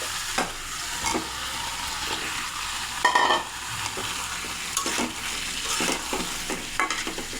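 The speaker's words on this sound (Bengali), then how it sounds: "এখন ভেজে রাখা আলুগুলো দিয়ে দেবো।" Fried potatoes go into a chicken curry simmering in spiced paste, stirred with steady scraping against the pot over a soft, continuous sizzle, with a sharper clatter partway through and no voices.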